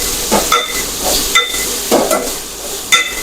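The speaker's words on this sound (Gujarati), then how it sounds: "આ ભીંડી છે નાખી દઈશું અને હવે આપણે તેને સારી રીતે મિક્સ કરી લઈશું" Okra sautéing in oil with mustard seeds, a steady close sizzle punctuated by several sharp scrapes and clicks of a spoon stirring in the pan.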